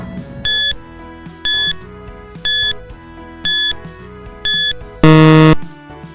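A quiz countdown timer for a grade 4 English lesson beeps five times at a steady one-second pace, then ends in a loud, sustained buzzer alarm, with no voices.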